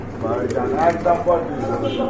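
Domestic pigeons for sale at a pigeon market coo in a soft, rolling series of calls, close by, while people talk over them.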